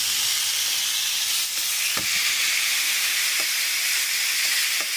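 Steak sizzles on a hot grill pan, giving a steady, close hiss of frying fat with a few faint pops and crackles and no talking.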